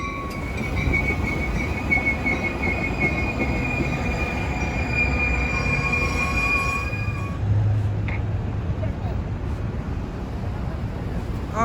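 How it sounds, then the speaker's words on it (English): A Chicago train pulls in with a steady rumble of railcars and a high, sustained wheel squeal that fades out partway through, the whole thing close and fairly loud with no one talking over it. "And my train is here."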